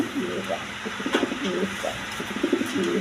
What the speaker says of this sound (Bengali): এইখানে এক পেয়ার বোল্টা শৌখিন কবুতর আছে